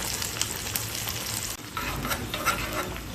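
Cumin, pepper, ginger, chopped green chili and curry leaves sizzle and crackle in hot oil for millet pongal, a steady close frying hiss with stirring clatter and a brief dip midway.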